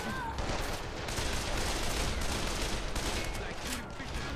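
Gunfire from the video game Call of Juarez: The Cartel, a steady, dense barrage of overlapping shots filling the whole stretch with no pause, loud and continuous.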